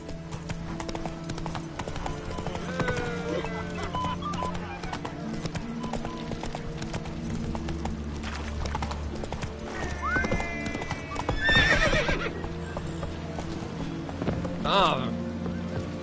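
Roach, a horse in The Witcher 3, gallops with steady clip-clop hoofbeats and gives a couple of whinnying neighs, with brief talk over the top.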